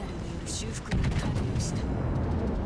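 A warship fires a heavy gun salvo in World of Warships, a deep booming blast landing mid-clip and rumbling on, with game sound and a speaking voice alongside.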